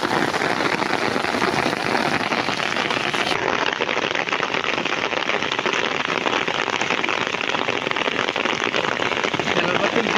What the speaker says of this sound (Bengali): প্রচণ্ড করে বৃষ্টি শুরু হয়েছে, আমরা বৃষ্টিতে আটকা পড়ে আছি